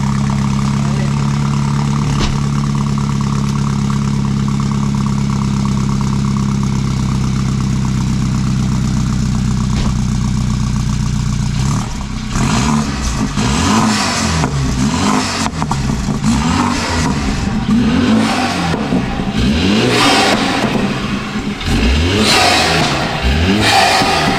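A BMW F30 328i engine idles steadily at first, then revs up repeatedly in loud, rising bursts, close by between houses, with people talking over it.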